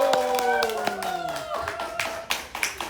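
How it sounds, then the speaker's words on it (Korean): Scattered clapping welcoming a speaker at a Korean lecture event, several sharp claps under ringing tonal sounds, fairly faint and uneven. "뜨거운 함성과 열정의 박수로 맞이해 주시기 바랍니다"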